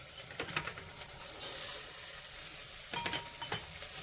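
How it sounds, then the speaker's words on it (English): Rice toasting in a pan with sweated onions, stirred with a soft scraping rhythm and a steady low sizzle, a few sharper scrapes of the utensil against the pan standing out. "We're just going to stir this rice. We're just going to parch it a little bit."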